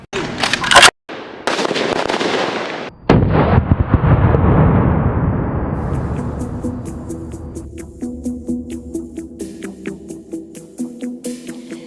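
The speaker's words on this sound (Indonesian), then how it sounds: "tembakan sekali tembak 1 butir, bisa tembakan otomatis." A dense, rapid burst of loud automatic gunfire at police academy training, then a rattling string of sharp shots fading into repeated pops and echoing bangs.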